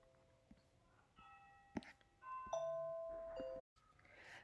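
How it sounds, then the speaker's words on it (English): A short electronic doorbell chime from a phone, several steady tones ringing out indoors at moderate volume, followed by a sustained higher tone before cutting off. "that's just my doorbell that's hooked to my phone"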